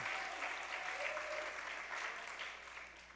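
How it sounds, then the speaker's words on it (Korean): A church congregation at a Sunday worship service claps for a young person, a dense, even wash of applause that stays steady and slowly tapers off. "준우 한번 박수 한번 쳐줄까요?"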